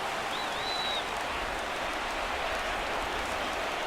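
Stadium crowd in MLB 17 The Show at a Seattle-at-Boston Red Sox home game, rising to a steady, dense roar of cheering that holds unbroken, with a brief thin whistle early on.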